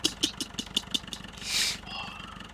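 A tractor engine in Farming Simulator 15 chugs in a steady run of regular pulses, then gives way to a brief, loud hissing burst before settling into a quieter hum.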